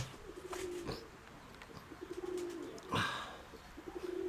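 Pigeons cooing outdoors in repeated soft low coos, fairly close, with faint wing flutters and light background noise.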